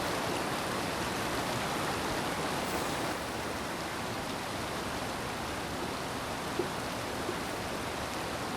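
Water in a forest stream rushes in a steady, broadband wash that stays constant throughout, close and moderately loud, with no voices or other distinct sounds over it.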